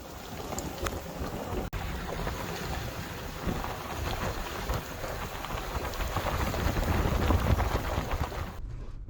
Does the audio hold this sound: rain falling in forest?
yes